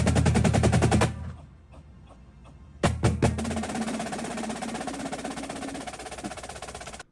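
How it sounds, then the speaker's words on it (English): A drumline snare section rattles off rapid high triplet rolls, dense and loud, cutting off, then resuming with sharp accented hits and sustained buzzing rolls. "So you hear that high triplet roll?"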